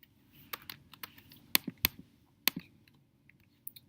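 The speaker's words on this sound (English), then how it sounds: "So I'm going to just type in the MLS number and let it autofill." Computer keyboard keys typed in scattered bursts while an MLS listing number is entered, crisp clicks close and fairly quiet with short pauses, over low room hum and no speech.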